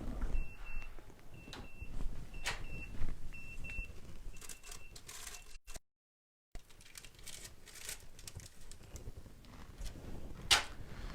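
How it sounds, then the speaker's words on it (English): A smoke alarm in a home kitchen chirps in a run of short, high repeated beeps over the first few seconds, set against steady kitchen clatter and room noise while a roulade cooks in the oven. "Smoke alarm's going off"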